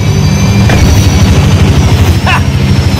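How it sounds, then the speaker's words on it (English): A helicopter in the racing game Forza Horizon 5 gives a loud, continuous rotor thudding with heavy engine roar. A couple of brief high chirps cut through the din. "Follow the chopper."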